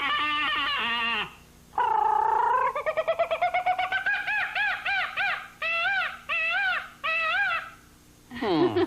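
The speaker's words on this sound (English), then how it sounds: "How about jungle sounds?" Jungle sounds fill the space: a string of bird-like calls, coos and hooting cries, some rising and repeated in quick pulses, loud and close, with short pauses between phrases.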